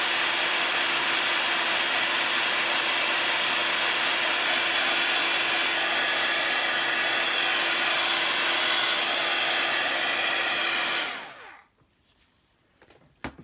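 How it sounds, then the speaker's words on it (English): A heat gun blows hot air over paper in a craft project with a loud, constant whooshing roar that is close and steady. It cuts off abruptly near the end and leaves near-silence. "just keep the heat gun moving the whole time so that you don't burn into the paper"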